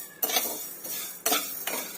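A utensil scrapes and clinks against a pan while vermicelli fries in oil, with a soft sizzle underneath and several sharp stirring strokes in quick succession, close and fairly quiet.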